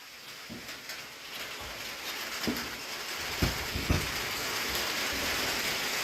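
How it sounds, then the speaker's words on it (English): Steady broadband hiss of rain beginning to fall on an off-grid homestead barn, with a few soft thumps and drops standing out against the continuous patter. "It's starting to rain now."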